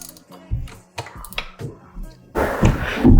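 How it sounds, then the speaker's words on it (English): A 13 mm wrench loosens bolts on an OTK Kosmic go kart, making several sharp metallic ratcheting clicks and taps close by in short separate bursts, followed by a louder stretch of clattering movement. "with our 13 millimeter, just slide everything, loosen everything up"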